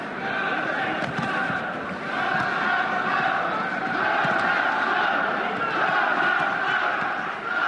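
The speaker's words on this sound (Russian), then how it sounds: "Казахстан, мы слышим, скандируют болельщики из Казахстана" Kazakhstan fans chant at an Olympic boxing bout at Beijing 2008, a loud, continuous roar of crowd voices with rhythmic swells filling the arena, a commentator's voice woven in.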